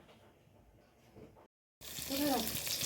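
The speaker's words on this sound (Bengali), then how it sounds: "এখানে বেগুন ভাজা বসিয়ে দিয়েছি" Eggplant slices frying in a pan give a soft hiss that cuts out briefly, then returns as a louder, steady sizzle, with a voice faintly heard over it.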